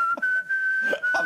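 A person whistles a single sustained, steady tone held for about a second, close and clear, with faint voices murmuring underneath.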